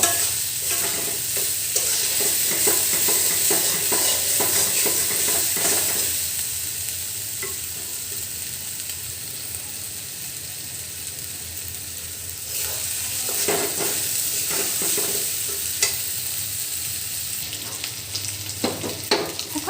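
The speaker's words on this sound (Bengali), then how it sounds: "প্রথমে অল্প পানিতে একটু কষায় নিলাম" Spiced beef tripe sizzles in a hot pan while a utensil scrapes and stirs in bursts, the frying hiss steady underneath.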